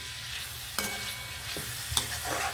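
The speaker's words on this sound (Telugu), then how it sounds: "ఇదిగోండి టమాటా ముక్కలు వేసేస్తున్నానండి." Tomato pieces drop into a hot frying pan for a chukka kura and tomato curry, bringing a continuous sizzle broken by a couple of sharp clatters and scraping stirs, close and moderately loud.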